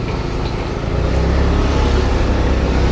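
A lorry rumbling on a road close to a motorbike on the way from Vizag to Araku, with a loud, steady low engine and traffic roar that grows slightly heavier partway through.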